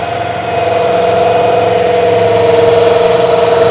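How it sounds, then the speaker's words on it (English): A loud turbocharged diesel engine on a New Holland TL-90 tractor runs steadily at high, sustained revs, droning evenly with a slight build in intensity and no talking. "It's running good. For this little motor, that's a lot. All right, wind her back up."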